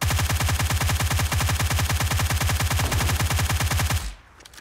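A suppressed UMP submachine gun with extended mag and thumb grip fires in PUBG Mobile, a rapid, steady stream of muffled shots for about four seconds before stopping abruptly, with no talk over it.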